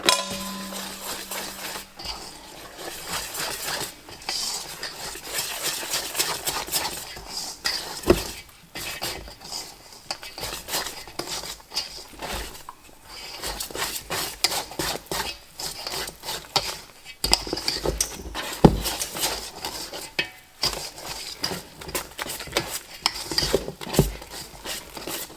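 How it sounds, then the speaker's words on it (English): A whisk stirs banana bread batter in a bowl, giving a steady scraping, clinking rhythm with occasional sharper knocks against the bowl, close and fairly loud. "I'm going to use my whisk and I'm going to whisk everything in."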